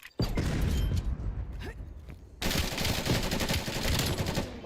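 An automated sentry turret in the shooter game Black Ops Cold War fires in a short burst, goes quiet, then breaks into a loud, rapid, sustained stream of gunfire heard close up.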